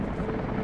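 A helicopter drones in the video game Rise of the Tomb Raider, a brief, steady, low rumbling wash of rotor and engine noise with no clear beats.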